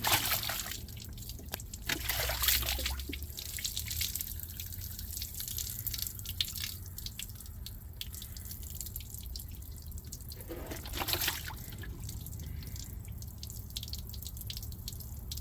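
Water from a coffee can is poured over a motorhome battery to rinse it, a steady close trickle and dripping with splashy bursts, running alone for about fifteen seconds.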